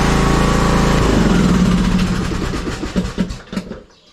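A cheap lawn mower runs with its blade still spinning. A loud, steady engine drone fades and winds down into sputtering pulses before it stops.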